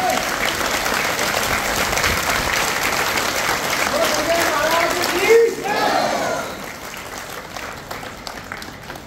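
An audience at a Shani temple in Gurugram claps steadily to welcome a visiting television news crew, loud and sustained for several seconds before thinning out toward the end.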